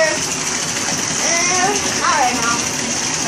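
Water pours and gushes steadily into a container for a float test with Styrofoam balls, close and continuous, while someone talks over it.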